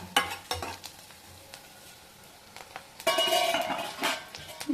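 Onions fry in a pan while spoon clinks and stirring scrapes come first, then a louder burst of sizzling joins near the end, with no talking.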